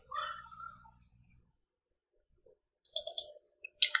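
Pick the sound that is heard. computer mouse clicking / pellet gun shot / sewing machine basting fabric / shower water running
computer mouse clicking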